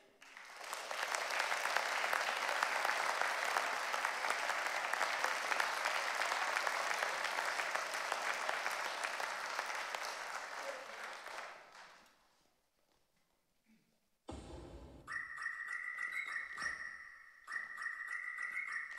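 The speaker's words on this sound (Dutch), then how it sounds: "Dames en heren, verwelkomt u ze met een hartelijk applaus." Audience applause welcoming a dance group at a wind ensemble concert in Heerhugowaard. A dense, steady wash of clapping runs for about twelve seconds, then fades out. Tonal music begins after a short pause.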